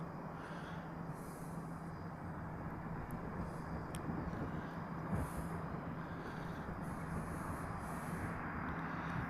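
Hawaiian Airlines Airbus A330 departing a Hawaii airport toward LAX, a steady broadband jet roar at middle distance that holds evenly throughout with a faint constant hum beneath.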